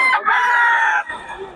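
Sweater Gilmore bloodline gamecock crowing once, a loud, close, strained crow lasting about a second, followed by a short fainter trailing call.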